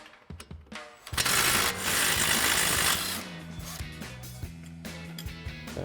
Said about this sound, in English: you may have to switch out to your air-powered impact, which we're doing right now